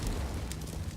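A Molotov fire burns in CS:GO, a faint, steady roaring crackle with low rumble, brief and alone.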